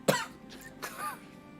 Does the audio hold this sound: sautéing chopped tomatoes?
no